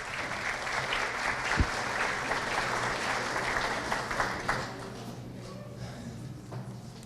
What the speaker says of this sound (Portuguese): Por favor, Cleide, uma salva de palmas.